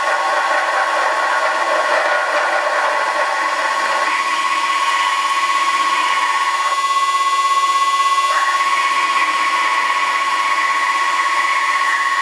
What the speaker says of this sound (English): so I will drill the hole 22 millimeters